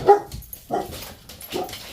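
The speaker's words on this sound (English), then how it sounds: "I do apologize for the dogs." Dogs bark in short, sharp bursts, three distinct barks spaced across about two seconds, fairly close and loud, during indoor Halloween haunted-house crafting.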